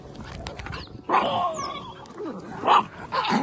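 A pug gives a few short, snorty barks and yips at a bird, somewhat distant and uneven, over steady background noise.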